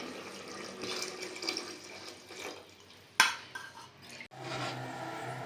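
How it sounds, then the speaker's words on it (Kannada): Water is poured from a glass into a cooking pot for mushroom biryani rice, a soft steady splashing stream close by, broken by a sharp clink of the glass against the pot. "ಐದು ಗ್ಲಾಸ್ ನೀರು ಆ್ಯಡ್ ಮಾಡ್ಕೊತೀನಿ"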